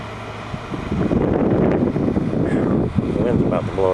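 Strong outdoor wind buffets the microphone in a steady low roar that thickens and holds for a few seconds, with faint rustling on top.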